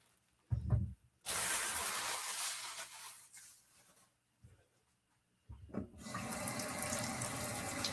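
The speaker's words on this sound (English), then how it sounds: "We're also going to get water noise as I wash these things off." Tap water runs into a kitchen sink while mushrooms are rinsed under it, a steady close splashing broken by short pauses and a brief handling knock before the flow resumes.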